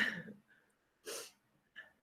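A single short sneeze bursts out, preceded by a brief breathy intake and followed by a quick snort or sniff, fairly close with quiet gaps between.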